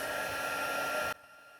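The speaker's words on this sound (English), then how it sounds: "I'm going to grab my heat tool, I'm going to put it onto 2" A handheld embossing heat tool on setting 2 melts gold embossing powder, giving a steady, loud airy blowing roar for about a second before cutting off abruptly to near silence.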